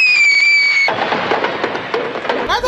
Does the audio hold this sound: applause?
no